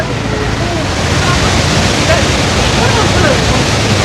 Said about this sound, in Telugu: ఈ బ్రిడ్జి మీదకి వచ్చేసి అందరూ ఈ వాటర్ ఫాల్స్ని ఎంజాయ్ చేస్తూ ఉంటారు